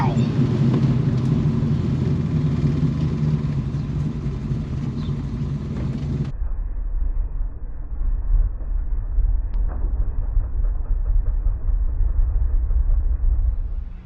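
1970 Chevrolet Chevelle 454 SS with a 632ci Merlin big-block V8 rumbling low and steady, loud and close at first, then muffled and duller for the second half as the deep idle continues.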